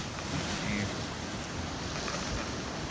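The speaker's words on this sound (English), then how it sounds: "That's the Atlantic Ocean there." Steady broadband roar of Atlantic Ocean surf and wind at a beach, continuous and loud, with wind buffeting the microphone throughout.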